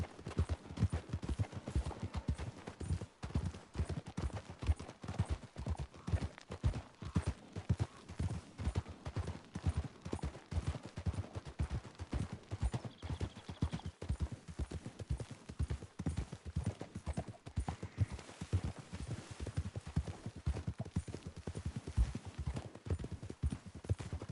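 Horse hooves gallop in Red Dead Redemption 2, a fast continuous clip-clop rhythm that stays steady and close for the whole stretch, with only brief faint sounds beyond the hoofbeats.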